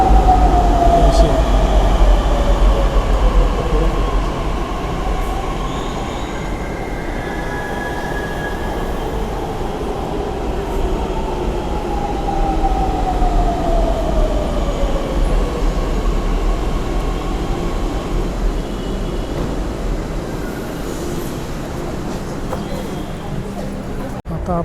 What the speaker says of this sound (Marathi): आपली गाडी येत आहे, ही जाणार आहे सिव्हिल कोर्टपर्यंत.